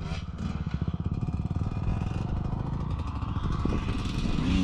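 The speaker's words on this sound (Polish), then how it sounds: "Dobra, trochę motocyklem teraz." A Honda CB motorcycle engine runs steadily and fairly loud while riding, with a pulsing putter and some rattling, no talking.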